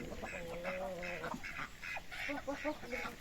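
A group of ducks quacks repeatedly and fairly close, the calls coming in quick uneven bursts over a noisy farmyard background with a fighting rooster and hens nearby.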